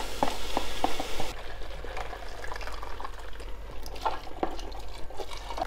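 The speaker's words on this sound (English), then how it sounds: "Add in some more water." Water is poured into a cooking pot holding peanuts while making a peanut sauce: a close, rushing splash at first, which then settles into softer bubbling and liquid movement. No one talks.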